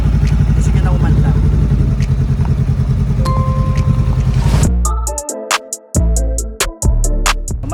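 A Honda Rebel 500 motorcycle's engine runs at a steady idle while the rider slips the half clutch, then the engine note breaks off into sharp clicks and knocks, loud and close.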